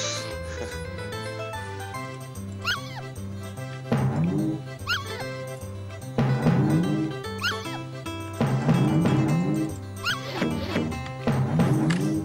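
Cartoonish dogs and puppies bark and yip repeatedly in the video game Earthworm Jim 2, mixed into busy game music and sound effects, with the barks recurring in short bursts throughout.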